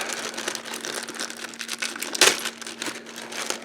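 A box cutter slices open a heavily taped package, making close crinkling and scraping of tape and cardboard with one sharp louder rip partway through.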